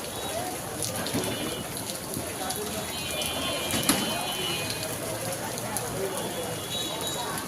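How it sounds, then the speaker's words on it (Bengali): Steady rain falls in front of a market in Nawabpur, a continuous broadband hiss of drops with a faint thud near the middle and voices murmuring underneath. "এই যে আমাদের মার্কেটের সামনে বৃষ্টি।"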